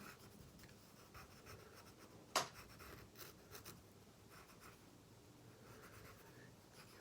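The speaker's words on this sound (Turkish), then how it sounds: "Bu şeyle kara kalemden çizmem de iyi oldu esasında." A charcoal pencil moves across paper with a faint, continuous scratchy rasp and a few short strokes, one sharper tap standing out, close but quiet.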